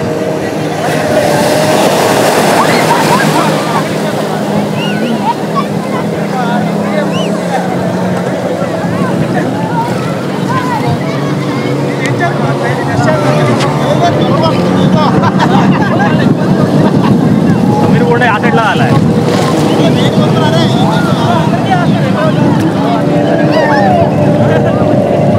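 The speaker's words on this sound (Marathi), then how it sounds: "मोटर बोट पुढे आहे आणि त्याच्या मागे ही बोट आहे." A motorboat towing another boat at sea off Malvan's Dandi Beach drones steadily under heavy wind buffeting, with people talking over the engine throughout.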